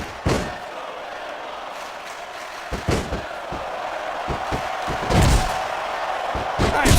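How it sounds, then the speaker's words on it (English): Wrestling arena crowd in SmackDown vs Raw 2006 during a Chris Jericho vs Chris Benoit match, a steady roar of crowd noise punctuated by several heavy slams and thuds from the ring, swelling louder toward the end. "Sounds like this crowd's got something on their minds, King."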